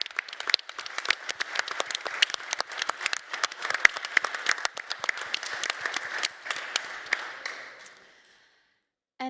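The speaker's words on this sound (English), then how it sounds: "Let's give them an applause as well" Live audience applause at the Codegarden 2022 conference, many hands clapping sharply and steadily for several seconds before thinning out and fading to silence.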